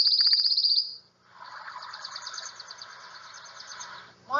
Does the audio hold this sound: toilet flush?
no